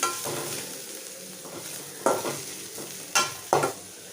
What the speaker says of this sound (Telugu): కొంచెం ఆనియన్స్ అయితే కొంచెం ఫ్రై చేస్తాను